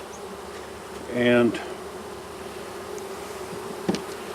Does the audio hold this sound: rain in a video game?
no